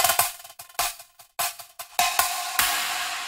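Chopped drum fill sample from a remix, a quick run of sharp hits and cymbal-like crashes in an uneven rhythm, bright and close with no voice, ending on a ringing wash.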